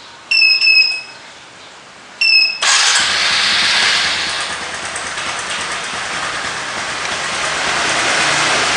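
Vehicle engine started by remote Android app control: two short electronic beeps, then the starter cranks and the engine catches into a steady, fairly loud idle that continues alone.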